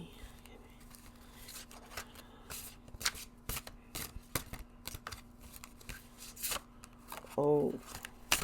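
Tarot cards handled and shuffled at a table, soft irregular flicks and slaps close by at low volume, with a brief murmured voice near the end.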